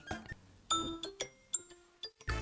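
A LINE app call ringtone: a short electronic melody of bright chiming tones, several quick notes in a rising and falling pattern, fairly quiet and alone.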